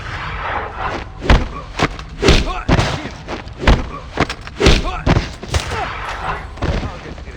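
Gunfire in the James Bond 007: Blood Stone video game: repeated loud, punchy shots and thuds in irregular bursts, close up, with a voice speaking between some of the shots.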